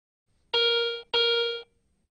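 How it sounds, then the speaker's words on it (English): Garrett Euro Ace metal detector giving its bell tone for a large silver coin: two clean, ringing, sustained tones, each about half a second long, separated by a brief gap, close and clear with no talking. "Non-ferrous targets with high conductivity, such as larger silver coins, produce a bell tone signal"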